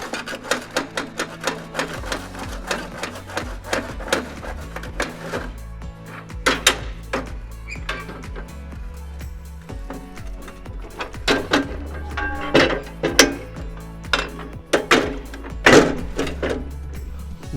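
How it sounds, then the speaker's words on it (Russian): A homemade coal briquette press machine works nearby with irregular clattering knocks and sharp metallic clanks, some louder thumps recurring through the run. "Вот, пожалуйста, он же сам сейчас покажет, как этот станок работает."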